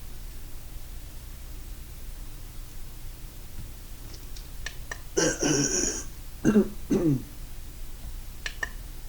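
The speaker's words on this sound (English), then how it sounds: "I'm sorry for clearing my throat so much." A man clears his throat in a few short, harsh bursts spaced over several seconds against quiet room hiss, with tiny clicks and smacks in between.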